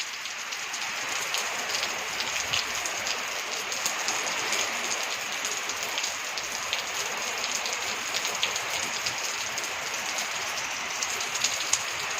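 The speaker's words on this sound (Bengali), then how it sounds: "এই যে ভালোই বৃষ্টি পড়ছে।" Steady, dense rainfall hisses continuously, with occasional louder drops striking nearby surfaces; no one speaks.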